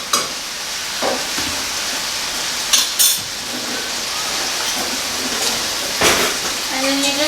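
Flour being stirred into melted butter in a pan to start a roux, with a soft continuous sizzle and scraping, punctuated by a few sharp utensil clinks against the pan.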